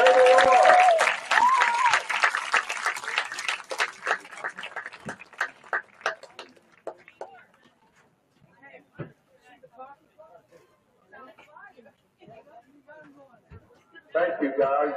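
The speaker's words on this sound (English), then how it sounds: "Let's give that team a big round of applause" Applause for a team at a dedication ceremony: a loud burst of crowd clapping that thins and fades over several seconds, leaving sparse scattered claps before a voice begins speaking near the end.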